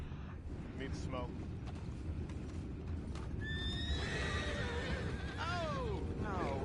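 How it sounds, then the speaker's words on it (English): Horses in the Red Dead Redemption 2 video game whinny loudly several times, the long falling neighs rising over a steady background of hoofbeats and ambient game noise. "You mind the horses?"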